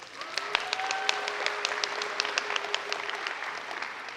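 Applause from a choral seminar audience for a composer, a fairly soft, even clapping texture with sharp individual claps standing out, and a faint sustained tone beneath.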